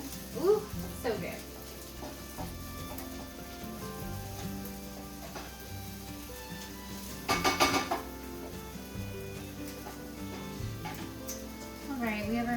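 Onions sizzle steadily in a hot pan on a home stove, a continuous frying crackle with occasional clinks of a utensil against the pan and a brief louder stir; someone talks over it at times.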